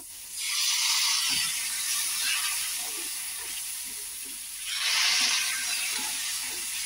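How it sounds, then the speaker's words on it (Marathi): Water added little by little to roasted semolina in a pan over low heat bursts into loud hissing sizzle twice, each surge easing into a steady bubbling crackle, close up with no talking. "याच्यात मी आता थोडं थोडं करून पाणी टाकते"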